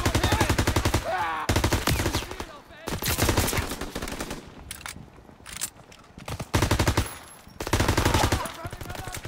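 MP submachine gun firing in Call of Duty WW2, long rapid automatic bursts broken by brief pauses, loud and close, with other battlefield gunfire mixed in.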